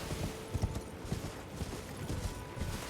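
Horse hooves trot in the video game Elden Ring, a steady clip-clop rhythm of moderate loudness under ambient game sound.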